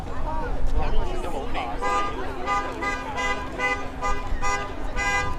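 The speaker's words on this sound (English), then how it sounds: "Honking the Border Services horn." Several honks from a Border Services vessel horn at Toronto's Billy Bishop island airport waterfront ring out in repeated blasts over steady background crowd chatter and a low hum.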